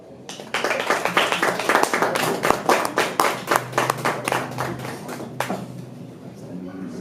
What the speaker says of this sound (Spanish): del poeta Sebastián Arce, a quien pido un fuerte aplauso